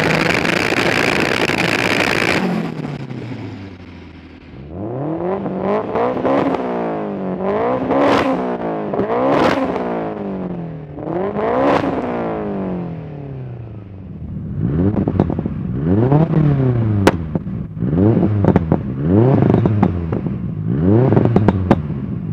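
Tuned AWD cars, a 705 hp Subaru Impreza, a 620 hp Honda Integra and a 650 hp Mitsubishi Evo 8, revving hard nearby, with repeated rising and falling engine bursts and clattery idle between them.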